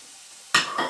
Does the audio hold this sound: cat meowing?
no